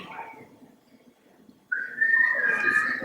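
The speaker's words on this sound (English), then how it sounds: "I was whistling" After a quiet, muffled stretch, someone starts whistling a clear, high tune close by, the notes wavering and sliding for over a second.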